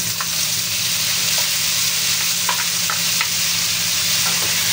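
Chicken and tomatoes fry in a pan with a steady, close sizzle, punctuated by scattered scrapes and taps of a utensil stirring, with no voices.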